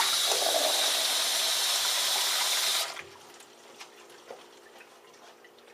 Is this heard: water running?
yes